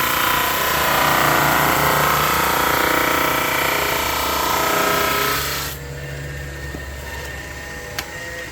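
Steady, loud abrasive rasp of a power sander on the wood of a 1930s end table with old finish, running continuously for over five seconds before dropping to a quieter hum and then stopping.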